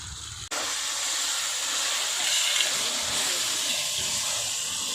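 Tomatoes tipped into a pan of sautéed ginger and garlic in a village kitchen, a sudden loud broadband sizzle and hiss that bursts on and holds steady, with no voices.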